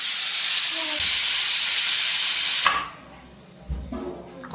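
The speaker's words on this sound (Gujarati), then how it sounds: "કુકરે બોલી લીધું બ્લોગમાં" A home kitchen pressure cooker whistle hisses with loud, steady steam for nearly three seconds, then cuts off abruptly, leaving quiet room noise and a few faint clatters.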